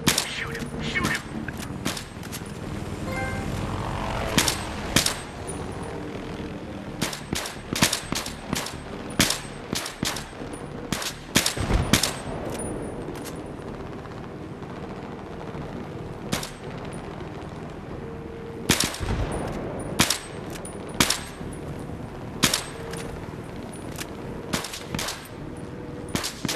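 Gunfire in Battlefield 3 erupts in repeated sharp bursts and rapid volleys, loud and close, scattered irregularly across a tense firefight with brief lulls between clusters of shots.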